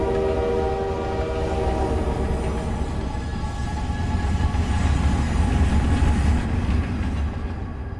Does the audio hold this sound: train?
yes